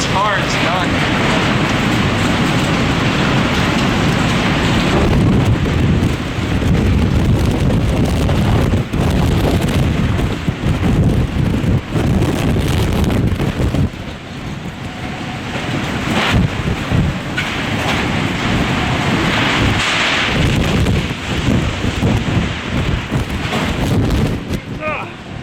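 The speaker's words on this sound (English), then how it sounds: "entered the eye of the hurricane, but the calm never came" Howling Hurricane Laura wind and rain roars and buffets the microphone continuously, with gusts rising and falling and a voice speaking beneath the noise.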